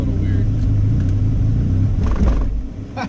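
A Honda Civic wagon's engine idles low and steady, a constant rumble right up close with a faint rise near the end, a voice talking over it.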